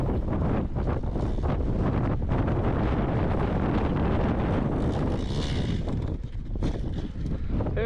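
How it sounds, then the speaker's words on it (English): Strong crosswind on a mountain climb, loud continuous wind buffeting the microphone with gusty roaring surges throughout. "That wind is fierce."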